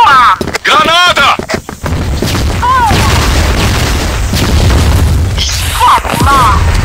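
Booming grenade explosions in an online multiplayer shooter match, a sharp blast near the start followed by a sustained rumbling roar, with excited players shouting over the top.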